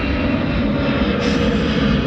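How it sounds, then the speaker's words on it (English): A fixed-wing airplane passes overhead with a loud, steady engine roar that fills the whole moment, broadband and unbroken with no voices. "now the airplane was going by"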